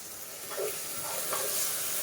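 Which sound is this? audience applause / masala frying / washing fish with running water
masala frying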